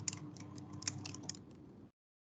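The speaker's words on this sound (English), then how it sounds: "I'm typing." Clicky keystrokes on a computer keyboard sound in a quick irregular series, with a few sharper taps standing out over a low steady hum, close to the microphone and without any talk.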